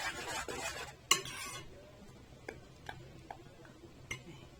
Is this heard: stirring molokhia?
yes